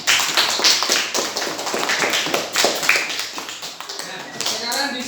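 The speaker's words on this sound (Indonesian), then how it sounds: "Beri tepuk tangan untuk kelompok kinestetik." A class of students claps for a student group in a classroom, giving a dense, fairly close burst of hand claps that tapers off near the end while voices talk underneath.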